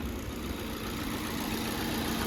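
A Chevy Cruze engine idles evenly with a steady low hum and no noticeable sputter or vibration after a transmission mount replacement, close by and fairly quiet.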